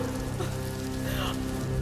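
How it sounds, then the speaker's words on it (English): A recorded rain effect, steady patter of rain on a surface with a faint hum underneath, continuous for about two seconds. "You hear the rain and the thunder?"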